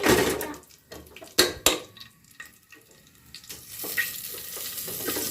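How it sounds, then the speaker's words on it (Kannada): Whole spices fry in hot oil for chicken donne biryani, a lively, close sizzle broken by sharp stirring clatters against the pan. "ಎಲ್ಲನೂ ನೀಟಾಗಿ ಎಣ್ಣೆಲಿ ಫ್ರೈ ಮಾಡಿಕೊಂಡು"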